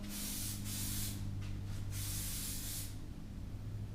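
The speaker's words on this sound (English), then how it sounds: "now we're going to go in, spray the bottom curls" Hairspray hisses from an aerosol can onto curls in several bursts, some short and some long, close up over a low background hum.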